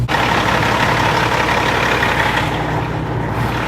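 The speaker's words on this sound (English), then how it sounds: "that APU must have just turned on" A truck's APU auxiliary power unit runs nearby, a loud, steady engine drone with a constant low rumble and no breaks or voices.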